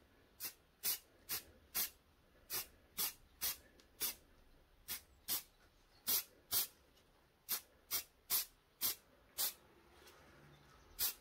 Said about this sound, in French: je vais passer tout ça avec le scellant